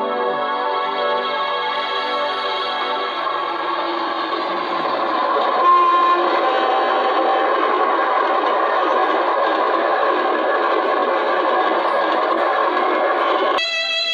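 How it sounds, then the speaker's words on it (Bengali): A train rushes past at high speed, a loud, dense and unbroken roar of wheels and carriages that holds steady for about fourteen seconds before cutting off abruptly, with no voices. "তীব্র গতিতে ছুটে আসে ট্রেন,"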